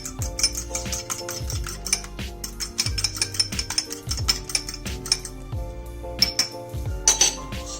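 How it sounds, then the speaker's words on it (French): An egg being beaten with a fork in a small bowl: rapid, steady metallic clinking and scraping that repeats in a quick rhythm for the whole stretch, close and moderately loud, with no voices. "je vais casser mon œuf dans un petit récipient. Je viens le mélanger avec une fourchette."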